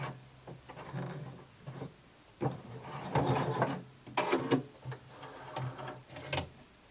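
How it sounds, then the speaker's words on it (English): A home sewing machine stitches slowly in short, halting bursts while sewing a bodice yoke, stopping and starting as it backstitches, close and moderately loud. "You don't want to go past the dot, you just want to go to the dot and then backstitch"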